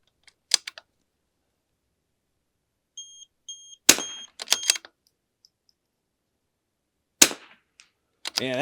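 Sharp rimfire rifle shots crack out at an outdoor range with a rimfire target stand, a few separate reports spaced seconds apart, each loud and brief with no talk between them.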